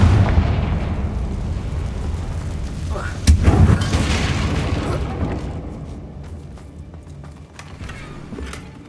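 A Confringo blasting spell goes off in Hogwarts Legacy, with a loud booming explosion near the three-second mark that rumbles and fades over several seconds, set against a dense, continuous game background.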